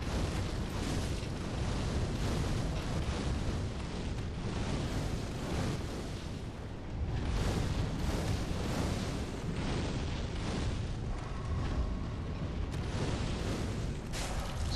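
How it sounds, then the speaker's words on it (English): Fireballs are hurled in the Dark Souls 3 video game during co-op play, making a dense, unbroken barrage of booming blasts and fiery bursts that stays loud and steady throughout. "Stop firing fireballs at me!"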